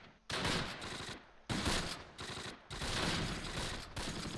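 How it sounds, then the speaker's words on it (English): Gunfire in the World War II strategy game Close Combat Last Stand Arnhem: loud, dense bursts of rifle and machine-gun shots in three sustained volleys, separated by brief near-silent gaps. "Shots coming from here."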